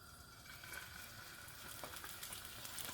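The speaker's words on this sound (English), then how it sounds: "we're going to be searing that on all sides" Rolled flank steak searing in olive oil in a cast iron pan: a quiet, even sizzle that holds steady throughout with faint crackles and no talk.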